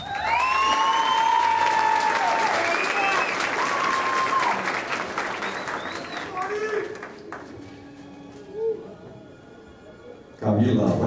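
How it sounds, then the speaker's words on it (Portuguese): Applause from the audience at a graduation ceremony as each graduate is called, sustained clapping with whistles and cheers above it, fading toward the end before a new burst begins, with talk mixed in. "cada formando chamado por mim, receber sua aplauso de todos vocês"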